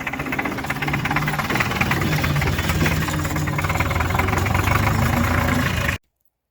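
A diesel engine on a homemade tractor runs loud and close with a steady knocking, throbbing rhythm, then cuts off abruptly into silence.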